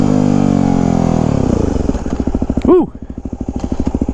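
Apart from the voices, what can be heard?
Yamaha WR250X motorcycle revving during wheelies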